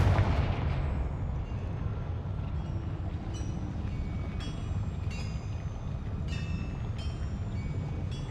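A fiery Confringo spell blast in the Hogwarts Legacy video game: a loud booming burst that settles into a dense, steady roar, with sharp crackling flares recurring throughout.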